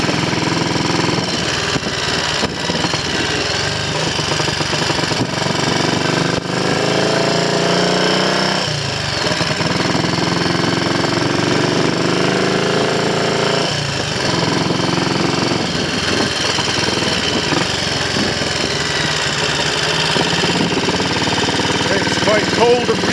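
A Triumph Scrambles Cub replica motorcycle running on an Amal 376 Monobloc carburettor outdoors on a cold, breezy day, its single-cylinder engine chattering loudly and steadily throughout with a few revs and changes in pitch.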